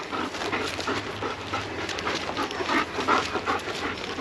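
A German Shepherd pants quickly and whines softly, fairly faint against a steady background hum, with rapid breathy bursts throughout.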